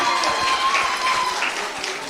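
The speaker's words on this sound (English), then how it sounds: "One more round of applause for Sophie." An audience applauds a quiz contestant at a Bible quest final, with steady, dense clapping throughout and a voice speaking faintly over it.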